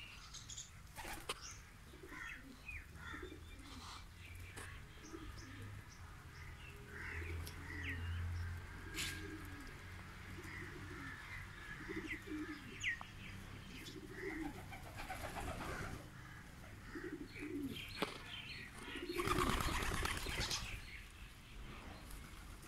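Breeder racing pigeons in a loft, a pair kept for raising young, giving soft intermittent coos and calls with occasional bursts of wing flapping, moderately close, over a steady low background hum; no one speaks.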